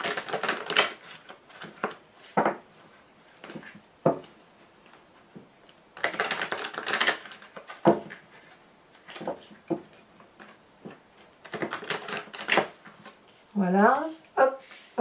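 A Wicca tarot deck being shuffled and cut at a table: several quick, crisp bursts of riffling and slapping cards, close by and separated by pauses, with a voice speaking briefly near the end.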